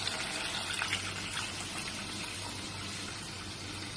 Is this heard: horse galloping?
no